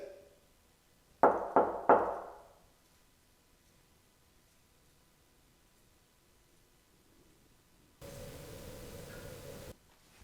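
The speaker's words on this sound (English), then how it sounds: "Sound like a knock though." Three sharp knocks in quick succession ring out in a large old mansion at night, echoing briefly down a hallway, followed by near silence and then a stretch of steady hiss.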